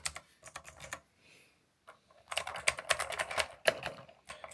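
Typing on a basic non-mechanical computer keyboard bundled with an MSI Aegis gaming PC: irregular close clicks of keys, a short sparse stretch, then a faster, denser flurry of keystrokes with no voices.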